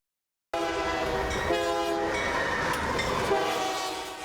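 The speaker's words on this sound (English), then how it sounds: "office for Denton Police Officer Gary Craig, spending his morning on board a freight train" A Union Pacific freight train rolls past with its horn sounding, a loud, steady multi-tone blare over rumbling wheels that starts abruptly and holds for several seconds.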